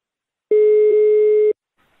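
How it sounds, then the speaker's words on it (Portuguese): Single telephone call-progress tone heard while placing a call on a radio prank program: one clean, steady electronic beep lasting about a second, loud and close, then silence. "Eu vou ligar agora pra Josi"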